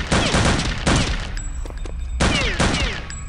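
Bursts of gunfire from Return to Castle Wolfenstein, two loud sustained volleys of rapid shots separated by a quieter gap with scattered single reports and faint game sounds.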